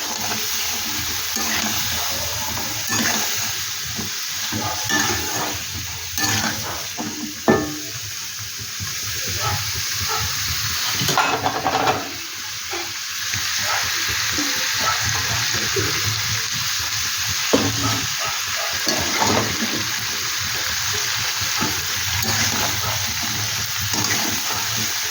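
Vegetables sizzling and frying in a pan for a Bengali kadai chorchori, a steady loud hiss with occasional crackles and clinks of stirring.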